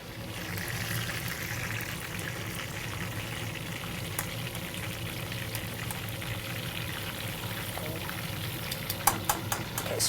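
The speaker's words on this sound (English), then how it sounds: "We're just going to fry this up" Food fries in a pan during a master chef cooking demonstration, a continuous soft sizzle and crackle with a few sharper pops near the end, close and fairly quiet, no talk over it.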